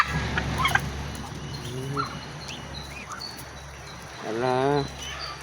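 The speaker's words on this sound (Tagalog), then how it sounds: "Ang pabo guys." Turkeys and other fowl at a backyard poultry pen, with a warbling gobble rising near the end amid scattered clucks, while people talk nearby.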